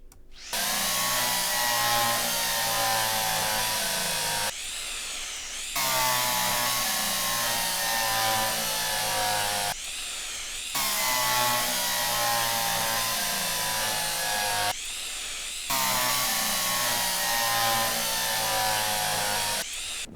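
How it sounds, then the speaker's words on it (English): Loud power drilling from Derail Valley, a railway video game, during remote unit installation: four sustained bursts of a few seconds each, separated by brief pauses, with no talk over it. "let's get the drilling into action. This will be loud."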